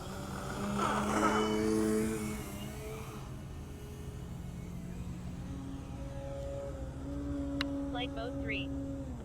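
An Avios Extra NG 3D EPO RC airplane with a 1600mm wingspan takes off. Its electric motor drones loudly at first, then settles, and a rising whine climbs as the plane flies, with a faint voice briefly heard.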